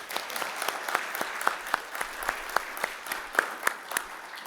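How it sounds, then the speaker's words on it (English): Modest applause from an audience thanking a foundation sponsor at an archives gathering, a steady patter of claps with a few sharper individual hits standing out, moderately distant and without talk. "Can we give them a round of applause"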